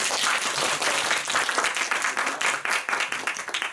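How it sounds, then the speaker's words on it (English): An audience at a speech evaluation meeting applauds, a loud, full burst of many people clapping that stays strong before thinning slightly toward the end. "Please give Rosie a big applause."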